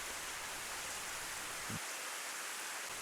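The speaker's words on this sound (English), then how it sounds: "More rain? Oh, brilliant." Steady hiss of rain from a sound effect in the visual novel If My Heart Had Wings, a soft, even wash of falling water with one small knock partway through.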